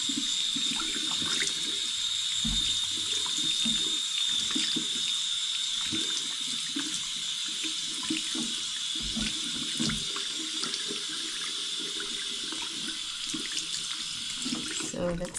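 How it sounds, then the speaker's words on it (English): Warm water runs steadily from a bathroom tap, a continuous close splashing flow with small shifts in tone, and faint low sounds underneath. "Look, warm water."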